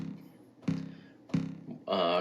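Short, clipped plucked synth notes with sustain turned down die away quickly, repeated a few times, followed by a brighter sustained tone at the end.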